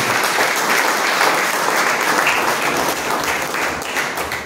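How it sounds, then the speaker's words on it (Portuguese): A church congregation applauds in praise, a loud, dense and unbroken wash of clapping from many hands that holds steady throughout. "E as palmas para o Senhor Jesus, igreja."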